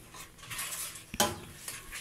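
Hand-shredded chicken stirred into an ají de pollo sauce in a pan: quiet spoon scrapes with a couple of sharp metallic clinks against the cookware, no voices.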